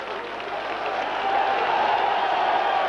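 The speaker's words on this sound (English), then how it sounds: "And Gary Schofield there just clapping the Leeds fans" Rugby league crowd at Castleford versus Leeds applauding as a player claps the Leeds fans, a broad roar of clapping and cheering that swells louder partway through.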